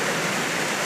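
Flowing water in a Glencoe landscape, a dense steady rushing wash like a waterfall or stream, close and even throughout, with no voices.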